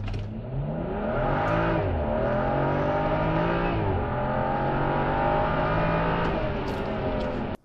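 A BMW M235i with a flashed ECU tune launches hard, its engine roaring loud and sustained for several seconds as it pulls through the gears, then cutting off abruptly at the end.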